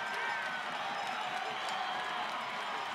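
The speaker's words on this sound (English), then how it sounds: "This crowd is gone crazy." A soccer stadium crowd at a Sacramento Republic FC vs LA Galaxy II USL PRO playoff match roars steadily after a penalty goal, a dense sustained wash of cheering and whistles, with commentary talking over it.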